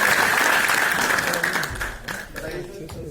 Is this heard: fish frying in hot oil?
no